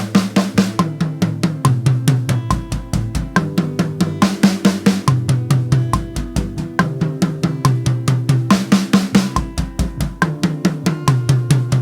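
A full drum kit plays a fast, steady groove, with sharp snare hits and tom fills rolling across the rack and floor toms, loud and close.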